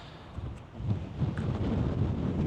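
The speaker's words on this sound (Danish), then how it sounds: "Det blæser noget i dag, skulle jeg lige så sige." Wind gusting over a Princess S60 motor boat heading out past the Svendborg Sound bridge, a steady rushing roar that swells louder toward the end, with no voices.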